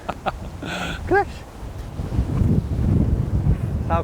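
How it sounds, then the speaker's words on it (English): Strong wind on a golf course buffeting the microphone with a broad roar that builds in gusts, while a few brief voices talk. "That's how windy it is."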